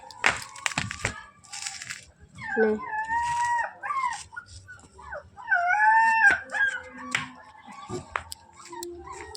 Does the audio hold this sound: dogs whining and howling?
yes